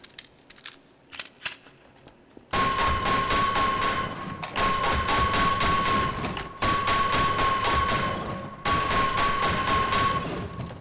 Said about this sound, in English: I heard you like loud explosions.